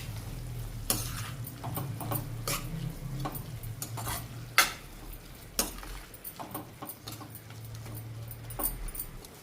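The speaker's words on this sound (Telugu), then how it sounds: "ఈ మసాలా మసాలాలతోటి ఈ క్యారెట్ని అయితే కొంచెం వేగనియాలి" Carrots fry in a pan with ground spice powder as a spoon stirs them, making a steady low sizzle broken by repeated clinks and scrapes of the spoon against the pan, close and with no voices.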